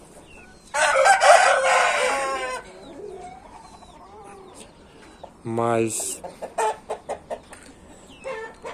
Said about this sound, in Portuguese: Tem outros galos aqui que brigam com ele.